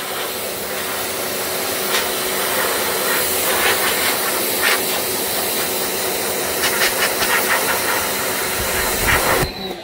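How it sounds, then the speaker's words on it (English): A little electric pressure sprayer blasts water over a vehicle to wash off love bugs, giving a loud, steady hiss and rush close by that runs almost without break before cutting off at the end. "I'm just holding the spray gun."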